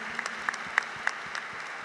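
Faint, sparse applause comes from a general-assembly audience, a few soft claps spread thinly over a quiet room.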